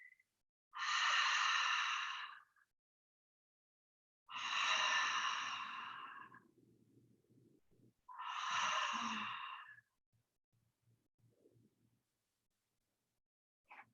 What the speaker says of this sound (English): Just 5 exhales.